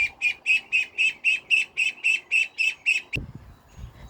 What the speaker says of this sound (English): And she's quacking, which is very strange because all these guys chirp.